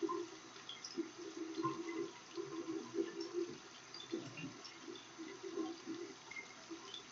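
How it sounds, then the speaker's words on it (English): Tap water runs and splashes over hands while fingers are washed, soft uneven gurgles and spatters close by, fairly faint. "I'm going to wash in between my fingers."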